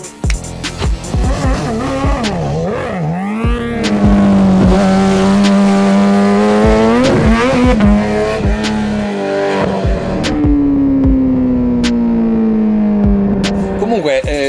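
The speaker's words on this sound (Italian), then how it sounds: "la vecchia moto del Salva va ancora forte, ragazzi" A racing motorcycle at the Isle of Man race starts off loudly and nearby, its engine revving up and down through rising and falling pitch sweeps, then holding a strong sustained drone as it accelerates away.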